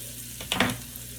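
A fresh piece of butter hits a hot frying pan before steak goes in, bursting into a short, close crackling sizzle that swells and fades over a steady background hiss.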